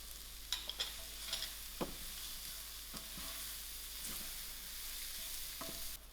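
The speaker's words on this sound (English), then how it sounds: "I'm going to add in my salt and allow my peas to cook." Peas cook with salt and ground spices in a pan for a kachori filling: a soft, continuous sizzle broken by a few sharp spoon taps and scrapes early on.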